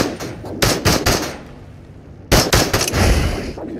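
Bursts of rapid gunfire in the VR shooter Into The Radius, one volley early and another later, loud and close, with a quieter stretch between them.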